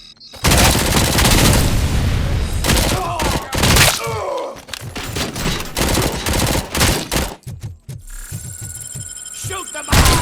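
Dense, loud gunfire fills a firefight in the RoboCop: Rogue City game, with thumping impacts and bursts layered together. Shouting voices break through in places.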